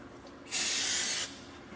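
One short, loud hiss of brake cleaner spray on new brake shoes lasts under a second, close up, with quiet before and after.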